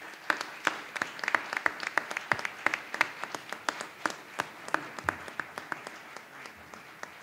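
Scattered applause at a university honorary doctorate ceremony, distinct individual claps in an irregular rhythm from a modest crowd, fairly quiet and heard from a short distance, thinning out toward the end.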